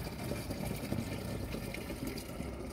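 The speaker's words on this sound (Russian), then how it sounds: "Ну, ты давай воду набирай." Water runs steadily from a paid street water dispenser into a 5-litre plastic bottle, a continuous close filling rush with low hum.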